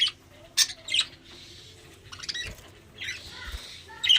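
Budgerigars and parrots kept in a home bird room chirp and squawk in short bursts, with a few sharp calls standing out over a low steady background hum.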